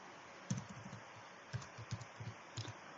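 Quiet computer keyboard typing in a spreadsheet while entering mark-sheet headings, with soft irregular clusters of key clicks, close and faint, and no voices.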